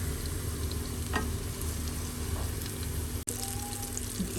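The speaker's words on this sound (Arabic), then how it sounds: "بقيت قلب الباذنجانات لحصلنا على هيدا اللون الذهبي الفاتح" Eggplant and okra frying in about half a cup of vegetable oil as pieces are turned: a loud, continuous close-up sizzle and bubbling with faint scraping, one abrupt cut near the end.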